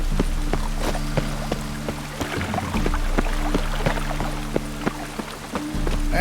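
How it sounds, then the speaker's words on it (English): Rain falling in The Witcher 3: Wild Hunt, a steady wet patter with scattered sharper drops and splashes over a low hum, continuous and moderately loud. "And it's raining again."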